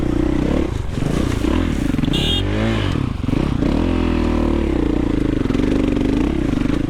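A dirt bike ridden on singletrack, its engine loud and close, revving up and down in rough surges with clattering and scraping from the trail.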